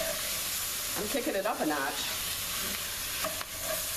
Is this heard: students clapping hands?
no